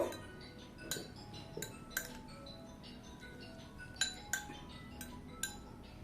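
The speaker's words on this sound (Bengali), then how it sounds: "নিয়ে আবার একটা বোলের মধ্যে দিয়ে মিশিয়ে নেব।" A spoon clinks repeatedly against a bowl while mixing tutti frutti, giving faint, irregular taps and scrapes at close range with no talking.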